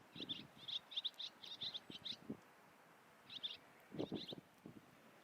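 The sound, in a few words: bird call played from a birding app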